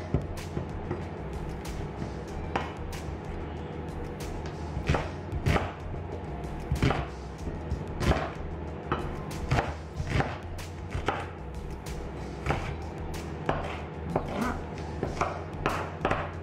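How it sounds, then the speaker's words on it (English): Knife chopping a small onion on a board in a home kitchen, a steady run of crisp, close taps repeating at an uneven rhythm over a low background hum. "Cut my onion."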